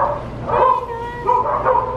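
A husky gives a short series of close, whiny yips and barks, two vocal bursts rising and falling over a couple of seconds.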